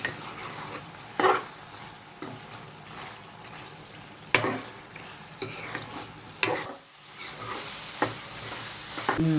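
Chicken pieces frying in a pan, a moderate sizzle with intermittent stirring scrapes and spatula knocks rising and falling throughout, no voices.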